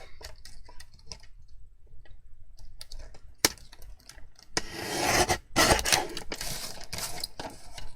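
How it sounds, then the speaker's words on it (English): An embossed card is trimmed at the edges on a paper trimmer: scattered small clicks and ticks, then a louder sustained scraping cut with a few sharp snaps, close and alone. "So all I'm going to do is just trim off these edges here."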